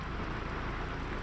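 Heavy downpour with strong wind in Lathi, Amreli district, Gujarat, a dense unbroken roar of rain on surfaces, loud and steady, with no voices.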